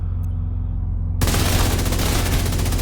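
Assault rifle fire in The Division 2: after a quiet second, a loud sustained burst of rapid automatic shots rattles on without pause, with no voices over it.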